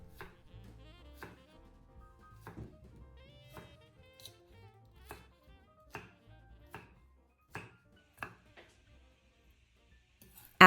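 A knife chops onions on a board in steady, evenly spaced taps, soft and close, with a quiet room behind and no voices.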